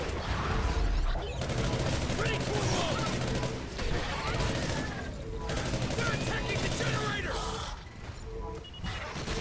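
Heavy gunfire from a video game bursts in repeated loud volleys and rapid shots, with brief pauses between them, while a player talks over the shooting.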